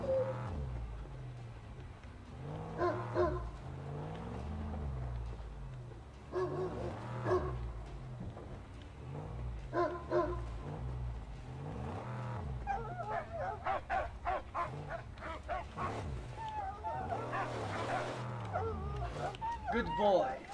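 The dog Dinki Di in the post-apocalyptic game Mad Max barks and whimpers in a series of short, repeated outbursts at close range, with brief pauses between them.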